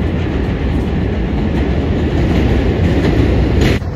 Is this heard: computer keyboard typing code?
no